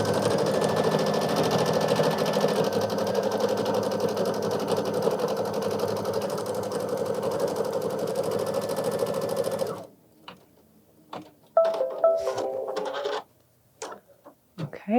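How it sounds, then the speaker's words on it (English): An embroidery machine stitches the outline of a bunny on a mug rug, with a steady, close, humming run that stops abruptly, followed by sparse clicks and handling noises. "this is now ready for the next step in the machine, which is the outline of the middle bunny rabbit"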